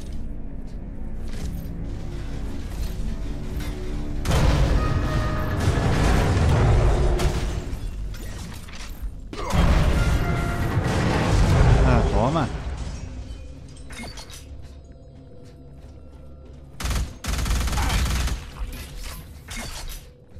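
Heavy booming blasts from a shotgun in the sci-fi shooter Alien Rage, a few loud rumbling bursts with mechanical clanks between them, under ongoing talk.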